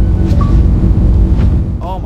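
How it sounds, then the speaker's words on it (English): Fable video game heartbeat effect, a loud, deep, continuous low throbbing rumble that fills the passage, with faint game sounds over it. "that heart noise is overbearing"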